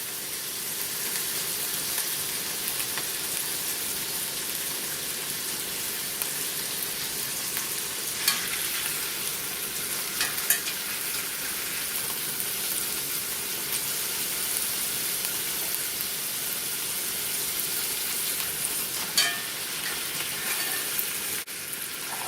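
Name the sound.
garlic pork and potatoes searing in a skillet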